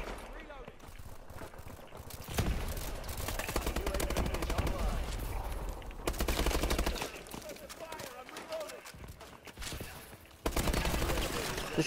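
Rapid automatic gunfire from a weapon in Black Ops 3 team deathmatch, loud and sustained in bursts, running under a player talking over it.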